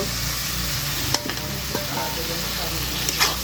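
Shrimp tossed in spice paste in a hot pan, a steady loud sizzle and frying hiss throughout, with a few light clinks of a spatula stirring, no talk.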